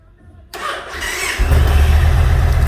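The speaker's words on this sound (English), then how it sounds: "And it starts, it runs, it's great." A 2008 Yamaha XV1900 motorcycle cranks after a brief quiet moment, then catches and settles into a loud, steady, deep-throbbing idle close by, with no voices.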